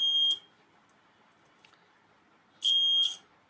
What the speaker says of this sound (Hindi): तो ये हमारा लाइट कंडीशन में बज़र ऑन होगा